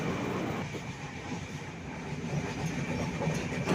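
Steady rumble of the Ernakulam SMVT SF Express running on rails near Ollur, Thrissur, a continuous loud roar with faint clickety-clack and hiss, no voices.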